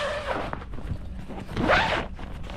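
A zipper on a car cover being pulled open in two quick close strokes, the second longer and louder, with no talk.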